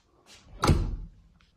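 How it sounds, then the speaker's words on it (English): An airtight Zola door swings shut in a house, giving a soft whoosh followed by a single solid, close thunk that fades quickly. "And we've got the Zola airtight door right here."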